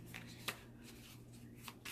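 A NOLA Pocket Tarot card deck is shuffled by hand, producing soft riffling and brisk card flicks with a couple of sharper snaps, quiet and close, with no talking.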